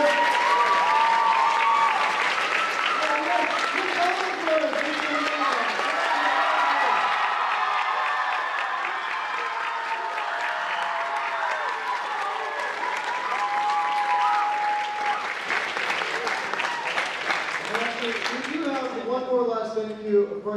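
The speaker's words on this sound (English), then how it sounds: "Let's have one more round of applause for all of our amazing conductors up here." Audience at a University High bands and chamber choir concert applauds its conductors, a steady, dense wash of clapping lasting throughout, with cheers, whoops and voices mixed in and rising near the end.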